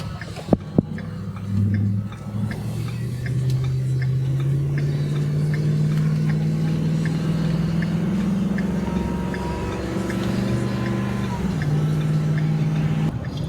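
A truck towing a Ferris wheel drives along, its engine a steady low drone with a faint regular ticking and bumping from a heavy rear load that feels like a locked-up axle or hub, continuous and fairly close throughout.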